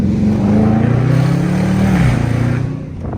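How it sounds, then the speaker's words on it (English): A Dodge Charger R/T engine revs hard as the driver hits the gas, a loud, close, sustained roar that rises in pitch and then drops back. "Hitting the gas."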